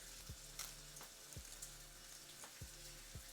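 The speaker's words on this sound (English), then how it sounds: "Our bacon sizzling right back there." Faint, steady sizzling of bacon frying in a pan, a continuous crackling hiss with occasional soft pops and low thumps, no talking.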